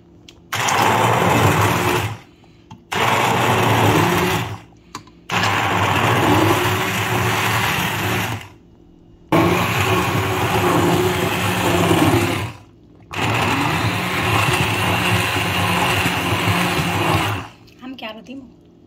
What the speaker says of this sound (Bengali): হ্যান্ড ব্লেন্ডারের সাহায্যে ব্লেন্ড করে নেব